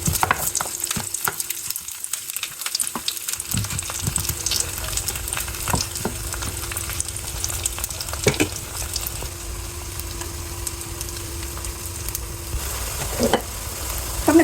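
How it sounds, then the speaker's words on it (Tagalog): Turon, saba banana and jackfruit spring rolls, crackle and sizzle steadily in a shallow layer of oil, a dense close frying hiss with small pops running throughout, no talking. "Dito ako mag-prito ng turong guys. Konting oil lang."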